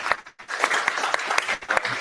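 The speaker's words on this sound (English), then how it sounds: "I like how you can speak for 2 minutes and get applause." An audience bursts into applause, a dense run of hand claps close and fairly loud for about two seconds, with one brief gap near the start.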